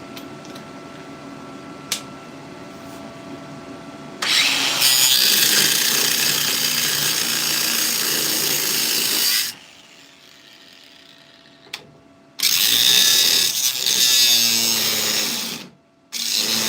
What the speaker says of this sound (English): I definitely have to grind them tacks down